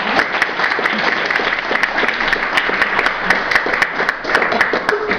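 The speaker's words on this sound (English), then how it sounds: "Big round of applause." Dense, continuous clapping from an audience greeting a reader before a science fiction short story, steady and fairly loud throughout with sharp individual claps standing out.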